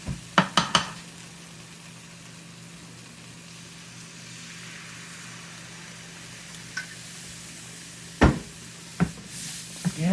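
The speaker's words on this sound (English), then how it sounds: "Just keep stirring so it don't lump up" Thick beef gravy roux being stirred in a pan, a steady low simmering texture with a few sharp utensil clinks and scrapes near the start and end; no talking.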